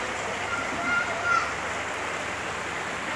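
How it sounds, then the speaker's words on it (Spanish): Floodwater runs down the main street of a town in La Lima, Honduras after heavy rain, a steady broad rushing wash that fills the scene without pause, with a voice faintly audible underneath. "el agua corre por la calle principal"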